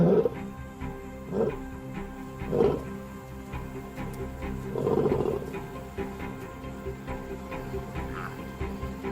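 Lions of a pride roaring at night in the wild, a series of deep, grunting roars repeating every second or two, fairly close and rising in strength toward the middle before trailing off, with no talk.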